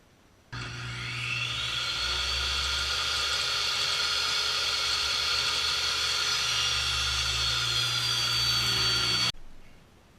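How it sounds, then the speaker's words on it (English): A table saw rips lengths of lumber into 2¼-inch strips for a toboggan build, a loud steady whine holding for about nine seconds from startup to stop under a low motor hum. "I've set my table saw to 2¼ inches wide, and what we're going to do is we'll rip all the lumber down."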